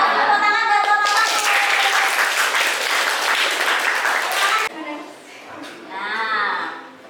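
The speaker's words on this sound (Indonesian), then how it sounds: "Tepuk tangan, tepuk tangan." A classroom of students claps loudly together for a few seconds for a correct answer, then the clapping stops abruptly and a teacher's voice talks over a quieter room.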